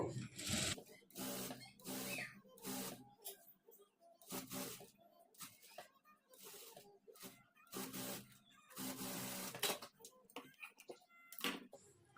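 Short, quiet bursts of a sewing machine stitching a blouse, starting and stopping irregularly with gaps of near silence between runs.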